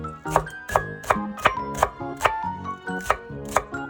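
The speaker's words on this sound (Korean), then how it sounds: "파기름을 내기 위해 대파 4cm 정도 남기셔서 다져주세요." A knife chops green onion (daepa) on a cutting board in a steady rhythm of about ten crisp, close knocks over a few seconds, with no talking.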